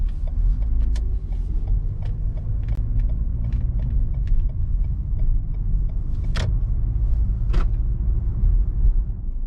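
A car drives steadily along a fuel-consumption test route, a continuous low road rumble with small creaks and mechanical ticks from the cabin and no voices.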